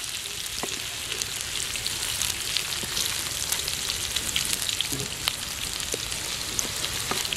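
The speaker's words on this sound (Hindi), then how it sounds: "और अभी हम आलू को थोड़ी देर के लिए फ्राई कर लेंगे।" Potatoes fry in a pan for a black pepper potato dish, giving a steady, close sizzle and crackle with occasional sharper pops throughout.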